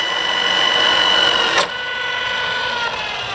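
Motor of an Arboga RLM3508 radial arm drill running in low range, a loud, steady close mechanical whine with tonal hum that drops slightly in pitch and level midway, continuing without talk.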